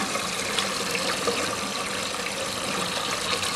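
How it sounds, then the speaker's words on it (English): A 1963 Briggs toilet tank refilling after a flush, with a steady, continuous rush of water filling the tank at moderate loudness and no voices. "Now the tank's filling up again."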